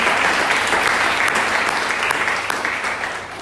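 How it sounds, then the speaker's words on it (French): A church congregation applauding during an evening service, a dense, sustained wash of clapping from many hands that fills the room and slowly fades toward the end. "Et nous acclamons le Seigneur pour sa parole ce soir."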